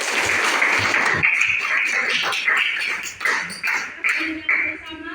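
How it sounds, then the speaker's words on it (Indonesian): A classroom audience gives a brief burst of clapping after a student presentation, fairly close, with voices mixed in and a few taps as it fades. "Tepuk tangan dulu."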